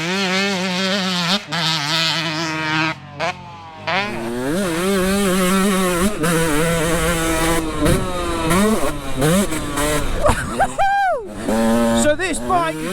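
A 125cc two-stroke dirt bike is ridden hard, its sharp, buzzing engine note rising and falling through rapid revving and gear changes, loud and close throughout.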